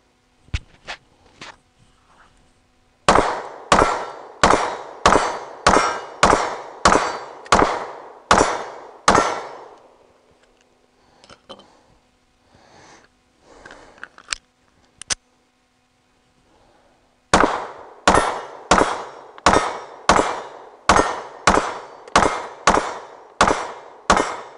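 Sig P365 pistol fired with mixed ammunition: two rapid strings of sharp, loud shots, about eight to ten each, separated by a quieter pause with faint handling clicks.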